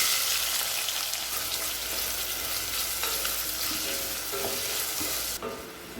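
Onions sauté in a pan for a Tamil egg curry, giving a steady close sizzle with light stirring clicks and scrapes toward the end.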